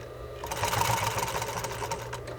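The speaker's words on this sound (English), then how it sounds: "Be careful that you're watching your hands and sewing." A sewing machine runs steadily as it stitches around a curve in fabric, with a continuous close whirring hum and rapid needle clatter that persists the whole time without a pause.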